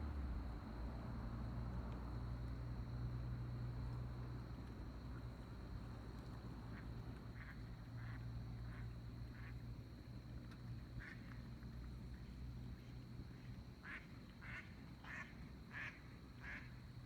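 Tan and white ducks quack in short repeated bursts, clustering toward the end, over a steady low outdoor rumble of wind and distant engine noise; no one speaks.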